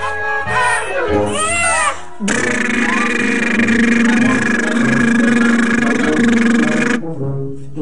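After some brief talk, a father makes a loud, steady droning noise with his voice, imitating a running engine for several seconds, startling his toddler.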